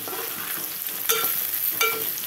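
Ivy gourd (dondakaya) pieces frying in a pan with a soft continuous sizzle, a couple of brief stirring scrapes standing out, close and fairly quiet.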